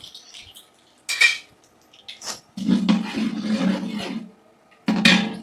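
Mustard seeds splutter in hot oil for tempering mango pickle: bursts of sizzling, crackling spatter come in short surges, with a sustained loud fry in the middle and a final burst at the end.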